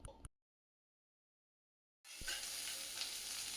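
Onion goes into hot oil already seasoned with black cumin. After a short blip and two seconds of silence, a close, loud, steady sizzle of frying begins and continues to the end.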